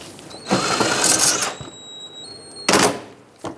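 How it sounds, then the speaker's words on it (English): Power tool driving a 7mm screw into the front bumper cover of a 2010-2017 Chevrolet Equinox, heard as two short whirring bursts with a sharp click between, close and fairly loud, no talk. "Now let's put in the 7mm screw to secure it."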